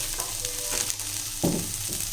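Ingredients for semiya biryani sizzle steadily as they sauté in a pan, with a couple of close stirring scrapes breaking through the constant frying hiss.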